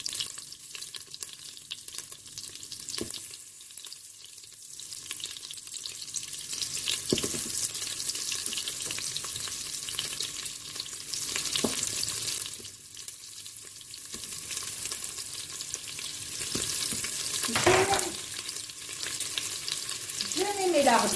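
Sliced onion browns in a Cookeo multicooker, a steady sizzle broken by occasional stirring scrapes and a few sharper clinks, moderate in level.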